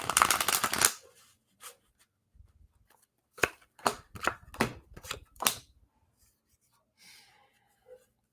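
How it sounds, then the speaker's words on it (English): Playing cards shuffled with a loud riffle, then after a pause laid down one by one in a run of sharp, close slaps and flicks, with a couple of faint taps trailing off. "So let's just throw a couple cards down."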